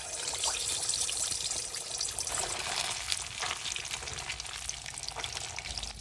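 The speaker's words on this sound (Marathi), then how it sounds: "आता मी त्याच्यात एक माशाचा तुकडा टाकून तळून घेते." Halwa fish piece frying in hot oil for a fish fry, a continuous bright sizzle with crackling bursts and faint stirring sounds, close and steady throughout with no talking.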